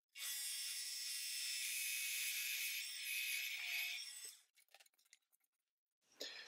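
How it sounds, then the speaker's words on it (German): A loud, steady high-pitched drilling whine as a 20 mm Forstner bit cuts into wood for several seconds, then stopping, followed by a few scattered clunks and a brief final burst. "ich bohre hier noch eben schnell mit dem Forstnerbohrer ein 20er Loch rein"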